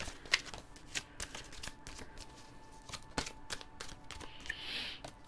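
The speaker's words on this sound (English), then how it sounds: "It is 10 cards." Tarot reading cards are shuffled by hand in quick, soft riffling bursts, close and quiet, with short pauses between shuffles and no voices.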